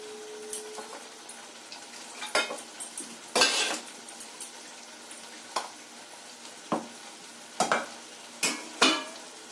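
Paneer cubes going into a pan and frying for a vegetarian paneer dish, heard as scattered stirring scrapes and clatters of utensil against pan over a faint sizzle, with several sharp close knocks spread through the clip.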